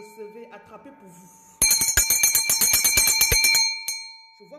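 A small hand bell rung rapidly about a dozen times, bright and loud, with a brief final ring after a pause; a voice talks softly before the ringing starts.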